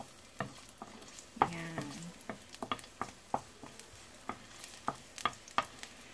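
Chopped garlic sizzling in a little hot oil in a pan, quiet crackling broken by sharp spatula scrapes and taps as it is stirred, with a brief spoken word.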